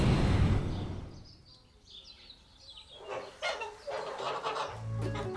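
Ducks and other farm fowl on a period farm in the Périgord give clucking and quacking calls at moderate distance over a rustling outdoor background.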